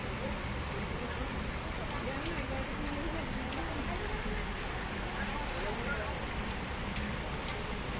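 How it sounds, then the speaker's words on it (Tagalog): Heavy rain pours down in a dense, steady hiss, with scattered drops pattering on a leaking tarpaulin and faint voices in the background. "Lakas ng ulan, no?"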